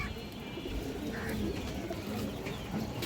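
Pankhi pigeons coo continuously in a loft, overlapping soft throaty calls close by against a noisy background.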